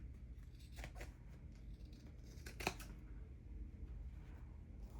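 Scissors trim the uneven edge of a folded paper Christmas journal cover, making a few soft crisp snips, one a little sharper, over a steady low background hum with no talking.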